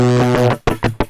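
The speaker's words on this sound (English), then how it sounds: "Another flavour of distortion seems to be happening here, which is cool" Guitar run through an Amiga 500 used as a distortion pedal, a loud buzzy sustained distorted tone followed by three short choppy distorted stabs, close and dry.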